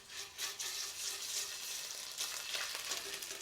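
Garlic frying in olive oil in a pan, slightly wet so it splatters, giving a steady soft sizzling hiss with small crackling pops, close but fairly quiet.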